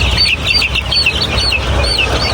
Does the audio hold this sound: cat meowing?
no